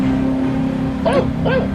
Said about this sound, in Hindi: अरे भौंक क्यों रहा है?